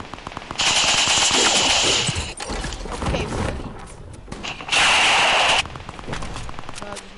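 Automatic gunfire erupts in a PS4 shooter game, two loud sustained bursts of rapid shots separated by busier, lighter in-game action noise.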